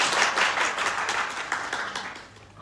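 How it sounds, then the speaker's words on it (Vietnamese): Audience applause at a Miss Universe event, a dense burst of many hands clapping that gradually fades over a couple of seconds. "Một tràng vỗ tay cho Miss Natalie."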